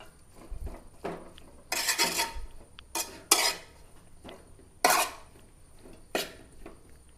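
Metal spoon scraping and clanking against a wide-mouthed pot while stirring a curry on low heat, several bursts of loud clatter separated by quieter pauses.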